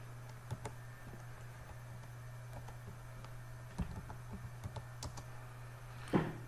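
Keys on a computer keyboard are tapped in short, irregular bursts of close, quiet clicks over a faint steady hum, with a louder clatter near the end.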